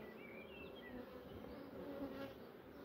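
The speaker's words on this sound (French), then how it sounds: "Les vieilles abeilles." Honeybees buzz softly around an open hive on a warm, sunny spring day during an inspection, a dense, faint, continuous drone of many wings.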